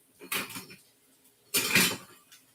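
Two separate bursts of a spoon scraping and clattering through onions in a nonstick Teflon pan while cooking, close and moderately loud, separated by a quiet pause.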